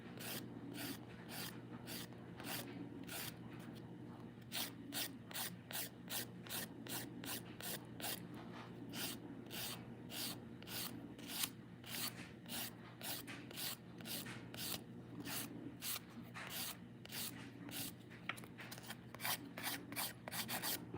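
Nail file rasping across dip powder nails in quick, even back-and-forth strokes, a close, soft scratching rhythm that continues steadily with no talk.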